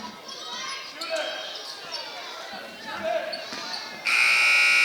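A loud, sustained end-of-quarter buzzer sounds near the end, cutting in over crowd noise and sneaker squeaks during a high school girls' basketball game in a gym, with an announcer talking before it.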